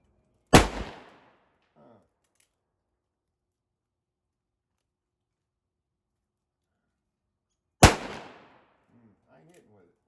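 Two sharp gunshots from an 1873 Colt revolver, the first near the start and the second about seven seconds later, each a loud crack with a short decaying tail and near silence between them; faint low voices mumble after each shot.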